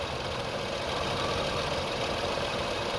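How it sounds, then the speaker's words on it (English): Car engine idling unevenly with its oxygen sensor disconnected, a steady close rumble with a slight rough, shaky pulse and no talk over it. "the noise changing and everything because we disconnected the sensor"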